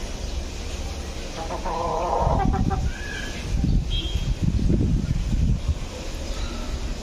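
Native desi chickens cluck and murmur nearby on a rooftop garden, several low bursts over a steady wind-like background, with no talk.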